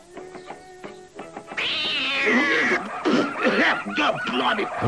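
A cat in the animated 101 Dalmatians yowls and meows in long, wavering, caterwauling cries that rise and fall. They are loud and close, preceded by brief chattering, voice-like sounds.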